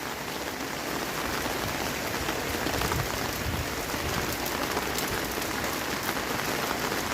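Steady heavy rain pours down continuously, a dense hiss of drops hitting surfaces with no pauses and no voices.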